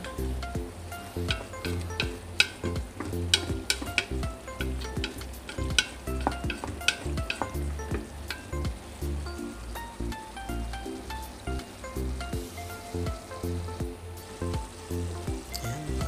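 Steady crackling sizzle from a pan of spicy chicken adobo, with irregular scraping and clinking as food is stirred throughout; close and continuous, no voices.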